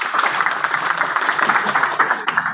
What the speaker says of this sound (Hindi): बच्चों के लिए भी तालियां बजाएं।